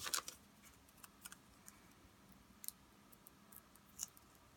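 Scissors cutting paper in a quiet room, a few faint, short snips and clicks scattered across a few seconds over low background hiss.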